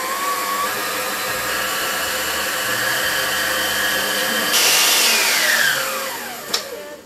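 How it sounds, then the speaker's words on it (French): An electric hand mixer whips meringue as hot sugar syrup at 117 degrees is added, a steady motor whir that holds through the clip and rises in pitch and brightness toward the end before winding down. "j'ai dit tout à l'heure qu'on allait mettre le batteur en marche"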